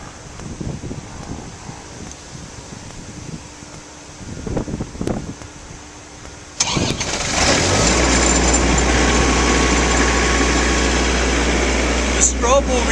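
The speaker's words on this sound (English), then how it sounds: "you'll see the generator start momentarily because we started it from inside" A standby generator cranks and catches, then settles into a loud, steady running drone with a strong low hum, following a stretch of quieter background sounds; speech is present.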